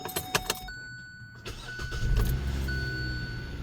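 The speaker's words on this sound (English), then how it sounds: "Now I'm gonna start up the engine" A 2011–2019 Hyundai Elantra engine starts after a few key clicks and jingles, the starter cranking briefly before the motor catches and settles into a steady, close idle.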